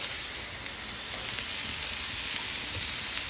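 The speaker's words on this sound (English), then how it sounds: "We are getting some burgers on the grill." Burgers on a grill sizzle in a loud, steady, unbroken hiss of frying fat, close up and alone with no voices.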